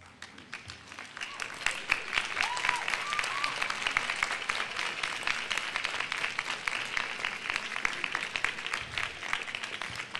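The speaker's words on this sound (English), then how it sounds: "Would you like to stand and give them a round of applause?" Nursing graduates at a commencement ceremony give their faculty a round of applause, sustained clapping from a large crowd that swells quickly and holds steady, heard from some distance in a large hall.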